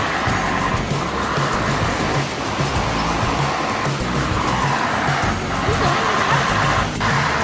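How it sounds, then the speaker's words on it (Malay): Water from a sand separator machine at a river sand-dredging site in Kampung Lakut gushes steadily into the river, a loud continuous rushing roar with no let-up. "ini adalah air yang datang daripada mesin pemisah tersebut yang akan disalurkan ke dalam sungai Kampung Lakut"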